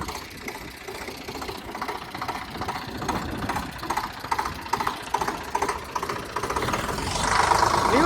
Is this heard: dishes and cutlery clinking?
no